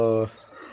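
A pet pigeon gives a short, close, throaty coo that fades quickly into quiet.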